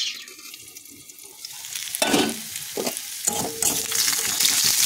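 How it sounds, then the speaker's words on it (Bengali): Potatoes frying in oil in a kadai while being stirred, a close sizzle with scraping and clattering spatula strokes that grows busier toward the end. "আলুটা আমাদের লাল লাল করে ভাজা ভাজা হয়ে গেছে"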